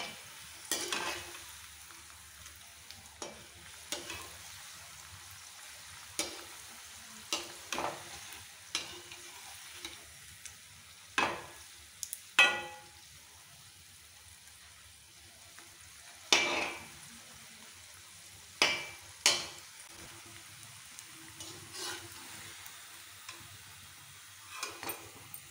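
Potato rolls fry quietly in a pan, a low hiss broken by scattered sharp scrapes and taps of a spatula as they are turned, with a few louder clusters of knocks.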